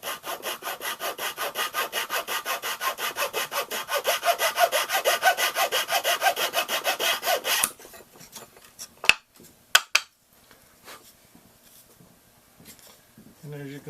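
Hand saw cutting a kerf slot about 1 mm wide in a wooden tailpiece for an acoustic kirar, steady rhythmic back-and-forth strokes for several seconds, then stopping, followed by a few sharp knocks and light handling sounds.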